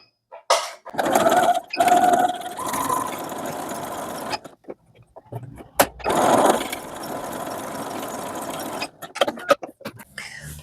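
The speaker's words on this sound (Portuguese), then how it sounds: "Agora já vou também passar aqui o meu zigue-zague." Sewing machine running a zigzag seam on a ruffled blouse, several short bursts of whirring stitching separated by pauses, close and fairly loud, with someone speaking between runs.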